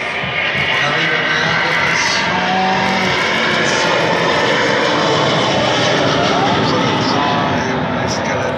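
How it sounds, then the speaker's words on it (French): An Airbus airliner powered by Rolls-Royce Trent jet engines takes off at the Paris Air Show at Le Bourget, a loud, sustained engine roar that holds steady throughout. "et on escalade le ciel. Les réacteurs sont également des Rolls-Royce Trent."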